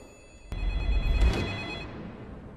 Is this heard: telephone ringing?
yes